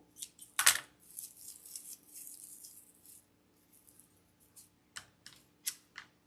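Scissors snip craft materials for a rustic farmhouse chicken wreath, a series of crisp close cuts and rustles, one sharp loud snip early followed by quieter irregular clips.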